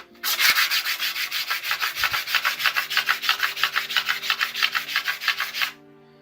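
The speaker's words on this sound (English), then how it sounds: "I'm just gonna start with the 240 paper to get rid of all the scratches" Hand sanding a metal ring with 240 grit sandpaper makes a rapid, even series of close, raspy back-and-forth rubbing strokes that stops abruptly near the end.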